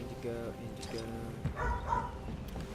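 A dog barks in Guild Wars 2 during the Lunar New Year event: quiet, short yips and woofs in a cluster, partly under a talking voice and game background sound.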